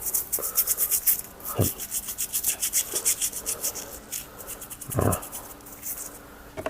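A gold-plated piece is rubbed and polished to a shine, with rapid rhythmic rubbing strokes and a couple of louder scuffs close by.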